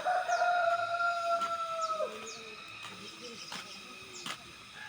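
Chickens and a rooster on a farm, with a long crow ringing out at the start over soft clucking and scattered bird calls, fairly close and clear.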